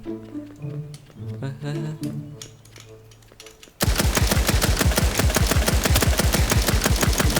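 Rapid automatic gunfire from a Roblox Rift Royale battle game, loud and continuous bursts that cut in abruptly after a stretch of game music, with no voices over the shooting.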